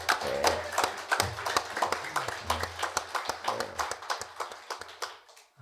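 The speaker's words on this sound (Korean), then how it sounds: "우리 하나님께 영광의 박수 돌려드리도록 하겠습니다" A congregation in church claps in unison during Sunday worship, giving a rhythmic series of distinct claps in a steady beat that gradually fades toward the end, with low tones humming underneath.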